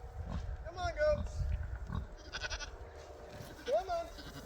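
Goats out on a pasture give a couple of wavering bleats a few seconds apart, close and fairly soft, while a person calls out to them.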